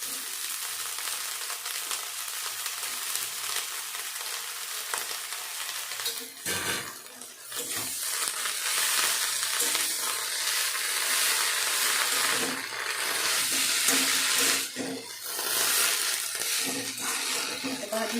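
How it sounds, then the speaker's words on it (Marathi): Tender chickpea leaves with coarsely crushed garlic and chilli sauté over medium heat, a continuous close sizzle with spatula scrapes and tosses through the whole stretch and a brief dip partway, no one speaking. "छान परतून घेतो मी मीडियम गॅसवर भाजी छान परतून घेऊ"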